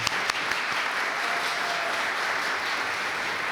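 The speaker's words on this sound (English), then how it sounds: "So a great round of applause for Maria." Applause from the audience at a Hispanic Heritage Month reception in Yonkers: a dense, steady crowd clapping that stays loud and even for the whole stretch, with a few sharp individual claps standing out early on.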